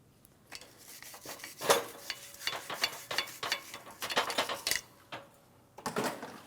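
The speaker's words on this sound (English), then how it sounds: "You can use a wire brush, some sandpaper," A wire brush scrubs the surface of a front wheel bearing hub from a 2003-2008 Toyota Matrix, in quick, close scratchy strokes that come in uneven bursts with short pauses between them.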